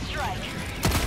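A Breaker Incendiary shotgun fires in the Helldivers 2 game: a single loud, sharp blast near the end of a short stretch of game ambience.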